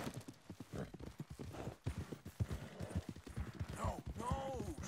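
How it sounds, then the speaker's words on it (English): A mare's hooves clip-clop in a quick, uneven walking rhythm at close range, with people talking intermittently over the steps. "Horse has got to be getting tired."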